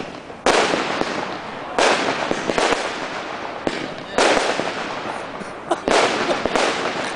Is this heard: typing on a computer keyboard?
no